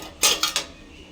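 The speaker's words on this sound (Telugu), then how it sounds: "ఇలా సాసరు మూతేసుకోవాలి." Three quick ceramic-and-metal clinks as a saucer is set upside down as a lid inside a pressure cooker over a stand and water, close and bright, with no talking.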